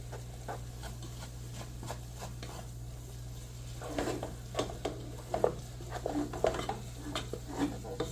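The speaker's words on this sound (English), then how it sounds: "We're gonna keep it stirred up so it doesn't burn." A spoon stirring gravy seasoned with garlic powder in a pot, scattered scraping and clinking strokes over a low steady hum, getting busier and louder in the second half, no talking.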